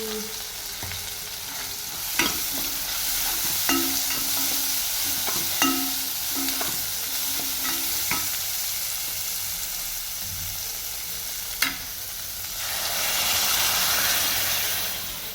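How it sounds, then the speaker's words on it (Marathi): Garlic, tomato and chili hitting hot oil with tempered cumin and mustard seeds, a steady close sizzle with repeated spoon taps and stirring clinks against the pan, swelling louder near the end. "जिरे मोहरी छान तळल्यानंतर आपल्याला टाकायचं आहे लसूण टोमॅटो मिरचीकडे हिंग और कसुरी मेथी"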